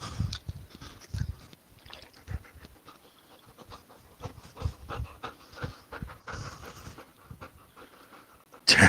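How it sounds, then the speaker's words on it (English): A dog panting heavily at close range, its quick rhythmic breaths continuing over nearly nine seconds with a few scuffing movements, a faint whimper and one loud bump at the end. "This poor dog doesn't know how to tear anything up."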